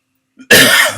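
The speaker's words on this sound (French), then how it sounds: "Toujours cette toux, malgré le miel, le thym et tout." A single sharp, loud cough close to the mic, preceded by a brief intake of breath after silence.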